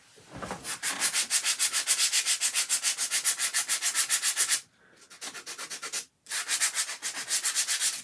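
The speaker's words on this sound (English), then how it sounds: "So you can also sand the back. I'm going to sand the back." Sandpaper rubs rhythmically across the back of a piece from a DIY bee-themed word stacker craft kit, fast even strokes close up, with two short pauses and no talking.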